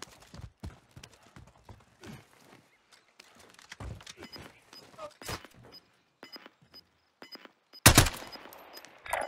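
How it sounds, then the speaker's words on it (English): Gunfire in the video game Call of Duty: Warzone, sharp scattered shots and bursts throughout with a louder close volley near the end, with occasional voices. "Somebody's shooting at me."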